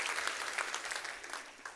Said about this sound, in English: we should have a huge round of applause for Danita and Julie